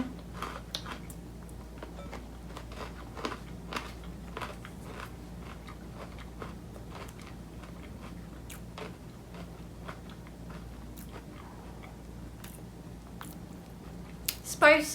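Someone crunches on crisp, hard Snyder's Hot Wing Pretzel Bites, giving repeated sharp bites and chewing crackles close to the mic, spread steadily through the whole stretch.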